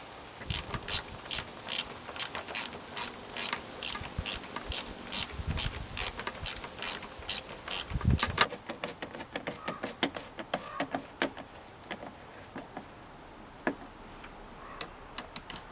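A ratchet tightens spark plugs on a 2008 Chevy Colorado with the 3.7 five-cylinder engine: close, crisp rapid clicking in an even rhythm, then sparser, irregular clicks and short pulls as the plugs seat.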